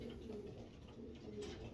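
Racing pigeon, a 2020-banded breeder bird, cooing in soft continuous throaty murmurs close by, with no one speaking.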